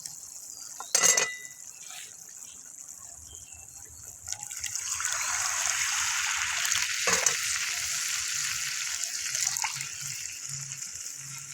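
Water poured into a pan of spice paste frying in oil for a koi fish curry, setting off a loud steady hiss and bubbling sizzle after a brief clatter, continuing to the end.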